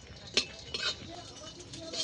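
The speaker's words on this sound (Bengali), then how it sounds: "সবকিছু একসঙ্গে ভেজে নেব।" Dried red chillies with pepper and cumin frying together in a pan, with soft sizzling under a few metallic clinks and scrapes of a stirring utensil, close by, and no talk.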